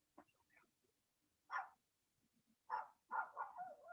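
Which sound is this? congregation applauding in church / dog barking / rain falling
dog barking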